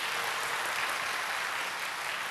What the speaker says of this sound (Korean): 그랬더니 박수 한번 안 주시나요?